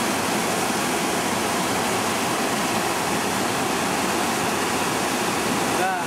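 A mountain grayling stream rises and rushes after a thunderstorm, giving a loud, continuous roar of turbulent water close by, steady throughout.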